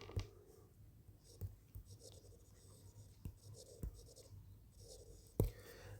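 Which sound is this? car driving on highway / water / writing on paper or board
writing on paper or board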